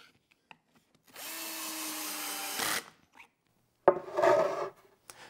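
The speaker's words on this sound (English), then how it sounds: "Then I can line up my edging, bring it up tight, and then start driving in the screws." A power drill drives pocket-hole screws through edging into a wooden shelf in two runs, a steady whirring stretch of about a second and a half, then a pause with faint clicks, then a shorter, rougher burst ending in a tightening whine.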